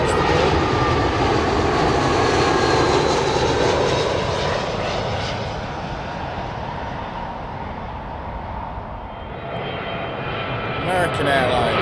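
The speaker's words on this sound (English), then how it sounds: "British Airways A319 from Paris Charles de Gaulle." British Airways Airbus A319 jet arriving from Paris Charles de Gaulle into London Heathrow, a loud, steady engine roar that holds close for several seconds, eases slightly, then swells again as the airliner passes.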